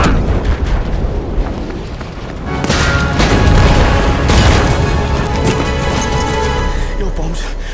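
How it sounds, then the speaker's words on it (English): Explosions from bombs going off in the video game Battlefield 5 rumble through dense, continuous battle noise, swelling louder in the middle, with voices briefly mixed in. "that's because my bombs went off"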